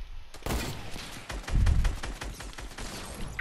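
Rapid gunfire in a first-person shooter, with Desert Eagle pistol shots in sharp bursts and thumping impacts, loud and close, coming in an uneven string over a few seconds.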